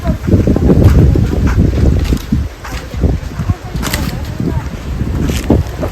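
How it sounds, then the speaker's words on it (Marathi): Midday wind gusts buffet the microphone in loud, rumbling surges that rise and ease, with leaves likely rustling and people talking intermittently over it. "वारा सुटलाय दुपारच्या उन्हामध्ये वाऱ्याचं एक झुळक येणं"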